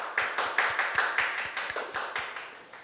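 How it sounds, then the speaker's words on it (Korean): Hands clapping in a sparse, fairly even rhythm of about a dozen sharp claps as a guest is welcomed at a church gathering, moderately close and without speech. "지금 저와 함께 문영진 천일국 이대 왕님께서 입장하시는 것을 함께 큰 박수로 환영해 주시면 대단히 감사하겠습니다."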